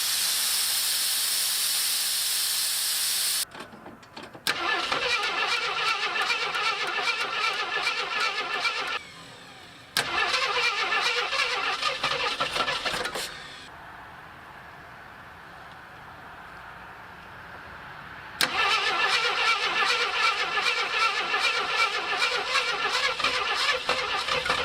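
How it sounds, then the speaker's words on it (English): Jeep CJ7 engine cranking repeatedly without catching, the starter grinding in several long, evenly pulsing bursts broken by short silences, with a hiss at the start. "in all this cranking, we're getting no fuel"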